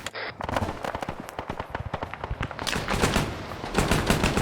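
Video game gunfire in an Argentina campaign battle: crackling bursts of rapid automatic shots from several guns, some near and sharp, others spread out, growing denser and louder toward the end with no talk.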